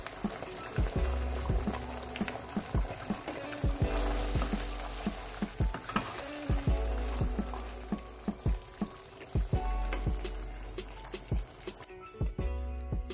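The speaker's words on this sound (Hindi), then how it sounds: "इसे एक बार अच्छे से स्टर करके इसे हमें पकाना है कम से कम 4 से 5 मिनट तक के लिए" Chilli chicken sauce stirring and frying in a pan, a continuous bubbling sizzle broken by regular rhythmic spoon scrapes and knocks against the pan, close and fairly loud.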